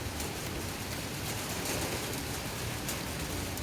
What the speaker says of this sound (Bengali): ওরে বাবারে কি জোরে জোরে বৃষ্টি হচ্ছে